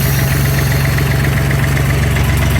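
A Mustang 930a skid steer engine idles loudly and steadily, a close, constant mechanical rumble with a rapid knocking pulse and no change in speed, with no talking.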